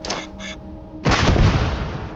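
A modded grenade explosion in the Starfield video game, where a couple of short quack-like blips precede a loud, sustained noisy blast that rumbles on to the end.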